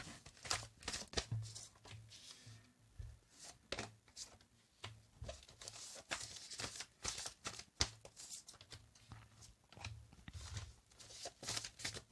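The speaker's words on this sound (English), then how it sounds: "So one more shuffle," Tarot cards are shuffled for a reading with quick, repeated riffling and soft papery slaps that run steadily through the whole stretch, heard close but quietly, with no one speaking.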